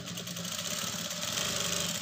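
Sewing machine running small stitches down the center of a blouse lining, a continuous close mechanical whir with fast rhythmic needle chatter throughout.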